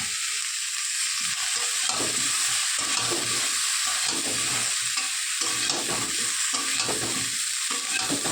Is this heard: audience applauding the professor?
no